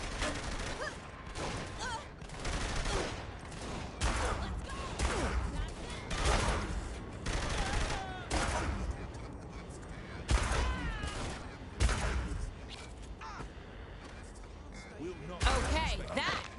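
Gunfire in the video game Saints Row The Third Remastered, repeated loud shots in irregular bursts mixed with game sounds and character voices talking throughout.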